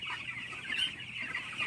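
Chickens clucking steadily inside a village poultry house, a continuous close chorus of hens with no talk over it.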